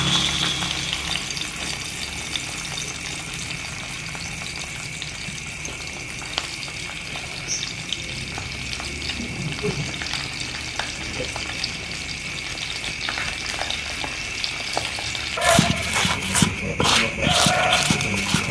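Food frying in a pan for a Sundanese meal: a constant hissing sizzle fills the whole clip, with a burst of louder crackling and clattering near the end.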